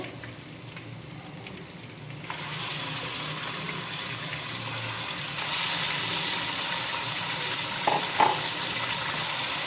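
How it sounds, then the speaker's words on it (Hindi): Beef pieces fry in a karahi with garlic and ginger, giving a hissing sizzle that jumps louder as the meat goes in and swells again later, with a few stirring knocks near the end. "बीफ को भी हम थोड़ा भून लेंगे।"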